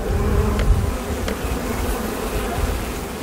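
Honeybees at an apiary buzz in a dense, continuous drone close by, with a few brief individual passes standing out over the steady hum.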